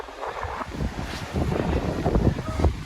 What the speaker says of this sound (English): it's too windy and it's raining now